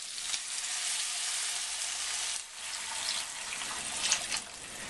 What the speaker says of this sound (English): Now we're going to add the 2 cups of veggie broth.